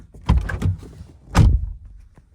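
A truck door opens nearby with a quick double clunk of the latch and handle, then another solid thunk a second later, with no talk.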